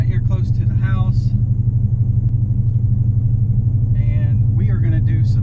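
A stick-shift, boosted Dodge Challenger R/T Shaker engine drones loud and steady at low pitch throughout, with a person talking briefly near the start and again toward the end.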